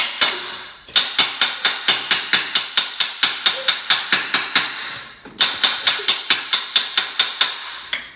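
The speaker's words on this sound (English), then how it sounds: "Hit it with the hammers." Hammers strike misaligned bolts in a fast, even series of sharp metallic blows, about two per second, close and loud. There is a short pause near the middle before the rhythmic hammering starts again.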